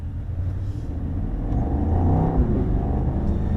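Mercedes-AMG GT63 Pro on a race track, its engine a steady loud close rumble that swells as the car pulls away and accelerates, with no voices.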